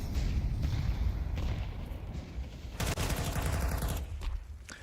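In a Counter-Strike match, a rifle gunfight breaks out with rapid bursts of gunfire, dense crackling volleys, and a sharp flurry of shots near the middle, loud and continuous with no talking.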